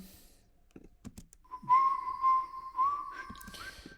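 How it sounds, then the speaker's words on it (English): A sustained, steady whistled tone from a stock whistling sample over a sparse beat in a Christmas song, holding mostly one pitch with small slides, after a few clicks and taps at the start. "have some whistling in here."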